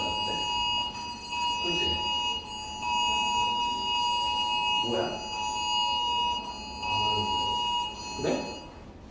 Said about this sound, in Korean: 뭐야 이거 알람이야?